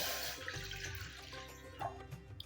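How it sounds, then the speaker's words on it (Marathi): A cup of water is poured into a pan for rice-flour dough for mango modak, giving a brief rushing, splashing pour that runs for a couple of seconds and then trails off. "तर आपण एक कप पाणी घालूया"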